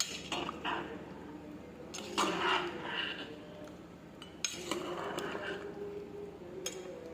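Spoon stirring margoog, an Arabic stew with meat, in a cooking pot, giving scattered metallic clinks and scrapes over a soft background hiss.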